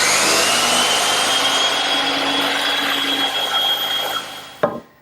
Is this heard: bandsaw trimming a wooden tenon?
yes